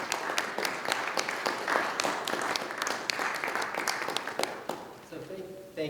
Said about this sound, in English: Could you give a nice warm applause to Anna, Stewart, and Samuel Graber?